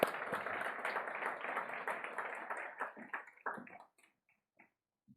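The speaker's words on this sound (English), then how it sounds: "Give her a warm round of applause." Audience applause for a panel member at a research report launch on the costly impact of gender-based violence, a warm round of clapping that thins into a few scattered claps and fades to silence.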